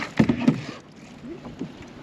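A small paddle dips into the water beside a kayak, giving a couple of close splashing strokes early on, then quieter water sounds with light wind noise.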